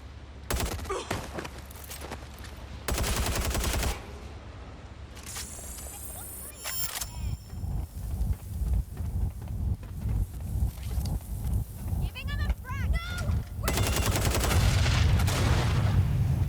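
Gunfire in the action game Watch Dogs: Legion, with repeated loud shots and bursts of automatic fire over a busy, continuous game soundscape that intensifies toward the end.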